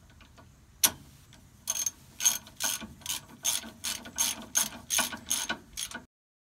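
A hand ratchet tightens the rear differential cover bolts on a Dodge Ram 1500, giving a quick run of crisp, close clicking bursts in a steady rhythm that then stops.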